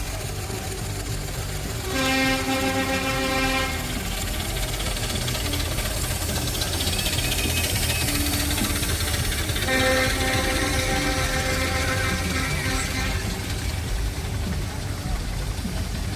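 Miniature steam engines run at an outdoor steam fair in Driffield, a steady mechanical rumble under crowd noise, with two bursts of whistle-like harmonic tones rising over the churn.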